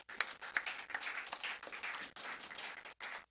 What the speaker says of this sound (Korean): 이 자리를 빌려서 우리 청소팀 정말 감사를 드리겠습니다. 박수 한번 하십시오.